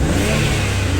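An Infiniti Q50S with newly installed downpipes revs hard, its engine roaring loud and steady from close range for the whole second, with no talk over it.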